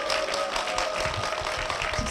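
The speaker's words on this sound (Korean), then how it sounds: "임상택 집사님 박수로 모시겠습니다" A church television audience breaks into dense, continuous applause to welcome a deacon to the stage, with a faint steady musical tone held underneath.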